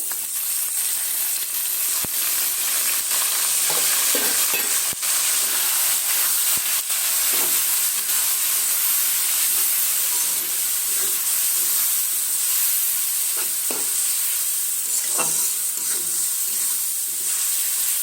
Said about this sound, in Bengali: এটা বেশিক্ষণ ভাজা ভাজাও হবে না একদম পোড়া পোড়াও হবে না